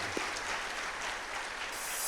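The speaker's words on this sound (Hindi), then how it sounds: "तो इसके लिए जोरदार तालियां पूरी संस्था के लिए" An audience applauding at a Brahma Kumaris Shivratri gathering, producing a brief, steady wash of many hands clapping at moderate volume.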